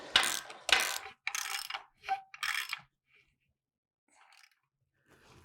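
A ratchet tightens a Ford equipment connection fitting, giving five short, close rasping bursts of clicking in quick succession, then near silence with a few faint clicks.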